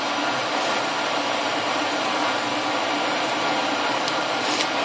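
Indoor coal forge burning under a welded hood, giving a steady, loud broadband roar of air and fire with no pauses, a few faint ticks above it, and no talk.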